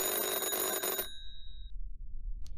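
A telephone rings loudly in the horror video game Subject, a bright electronic trill lasting about a second before stopping into near silence.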